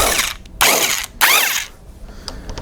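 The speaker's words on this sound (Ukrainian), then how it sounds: "гайкокрут і просто відкручую." An impact wrench spins off the nut holding a 4 kW generator rotor on its taper, giving two loud rattling bursts of about half a second each, followed by a quieter stretch with faint clicks.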